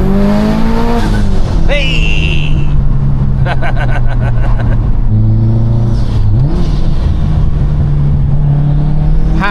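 A 605bhp 2014 Subaru WRX STI with a GTX turbo kit pulls hard through the gears, its engine note climbing and dropping at each shift, loud and close from inside, with a brief shout over it.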